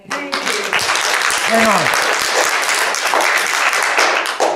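An audience at a public meeting claps loudly and continuously after a speech, and a voice briefly cuts in at the start.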